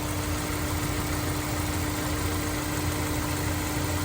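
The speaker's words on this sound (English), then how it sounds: "Listen to that motor now." Honda S2000 engine idling smoothly, a steady close-up hum with a constant low tone and faint vibration that holds unchanged from start to finish.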